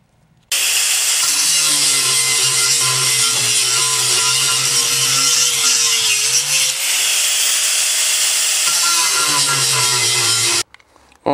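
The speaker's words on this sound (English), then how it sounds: "I will trace it onto there and I will cut it out with my angle grinder." An angle grinder cuts through a piece of scrap steel about 3/16 to 1/4 inch thick for a homemade knife, giving a loud, continuous high whine with a shifting tone that runs nearly the whole clip and stops near the end.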